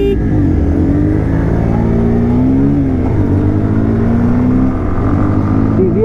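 A Bajaj Pulsar 125 motorcycle and a TVS Ntorq Race Edition scooter accelerating hard in a drag race, a loud, close, continuous engine drone that rises in pitch through gear changes.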